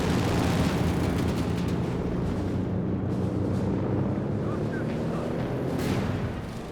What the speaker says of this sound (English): The aircraft does get shot down.